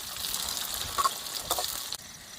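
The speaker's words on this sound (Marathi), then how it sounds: "मिरची, टोमॅटो सगळे एकदम शिजून घेऊया चांगलं तेलामध्ये" Onion, green chilli and tomato frying together in oil at an outdoor dam-side camp, a steady close sizzle with a couple of brief clinks of stirring and no voices.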